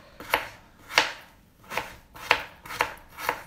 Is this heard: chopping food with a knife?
yes